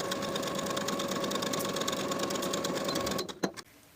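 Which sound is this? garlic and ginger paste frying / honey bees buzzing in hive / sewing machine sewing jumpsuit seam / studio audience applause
sewing machine sewing jumpsuit seam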